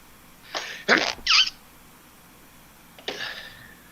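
Someone sneezes during a tabletop game session: a quick double burst of breathy sneezing, then a brief pause and a softer follow-up sneeze, fairly close and alone without talk.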